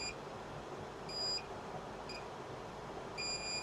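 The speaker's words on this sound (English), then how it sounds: "we're going to bring out our multimeter, put it in diode mode," A multimeter set to diode/continuity mode, used while probing liquid-damaged iPhone SE board components, gives several short electronic beeps at irregular intervals over a low steady background hum.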